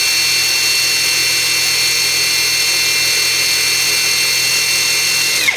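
A non-Makita impact wrench runs freely at high speed on its second setting, producing a loud, steady whine and hum held for several seconds before cutting off abruptly at the end.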